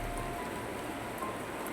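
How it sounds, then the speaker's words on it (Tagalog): Heavy rain falls steadily at the foot of a mountain, a dense, even hiss with no gaps that stays constant throughout. "Sobrang lakas po ng ulan dito"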